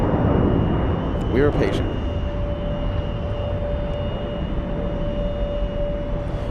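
An airliner climbs away after takeoff from an airport with its landing gear retracting, a loud rumbling engine roar under a voice, with a steady tone lingering as the roar eases.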